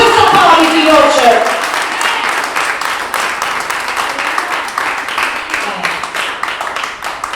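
A church congregation applauding during a worship service: a steady wash of clapping that carries through the whole stretch, loudest at the start and easing slightly, mixed with voices.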